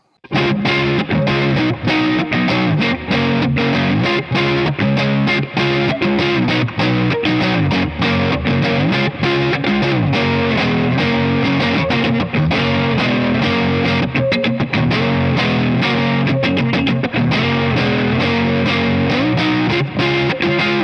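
A distorted electric guitar through a Planet Tone Sheminith humbucker on the neck pickup plays a continuous, busy riff with a warm, thick overdriven tone, loud and close, with no talking over it.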